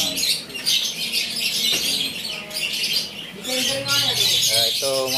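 Pet lovebirds chirp and squawk in a cage kept for breeding. The calls are close and repeated, with sharp bursts of tweeting. A person's voice can be heard faintly now and then.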